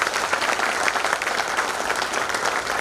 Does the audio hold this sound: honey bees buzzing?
no